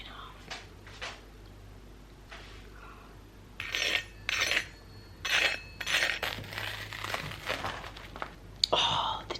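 A knife chops cheese toasties in half on a board, with several sharp clacks and scraping cuts spread across the clip, close up and fairly quiet, as a couple chat nearby.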